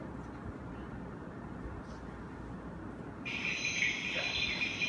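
Night chorus on a forest trail in Agumbe in the Western Ghats, a dense, continuous wall of frog and insect calls with a loud, high, steady trilling layer joining in partway through.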